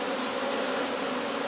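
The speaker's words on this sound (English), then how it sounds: "there's all your gorgeous little worker bees on there" Worker honey bees buzz on a hive frame during a brood inspection, a dense, steady hum close by with no voices.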